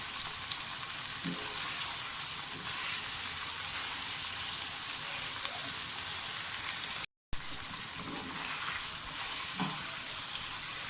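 Chicken pieces for green masala chicken fry in a pan with a steady, even sizzle that carries on without a break, close and moderately quiet, with no talking.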